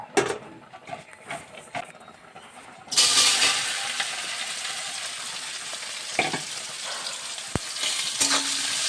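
Soybean chunks coated in salt and turmeric fry in a pan. Quiet stirring comes first, then a loud, steady sizzle bursts in and holds with occasional scrapes, with no talking.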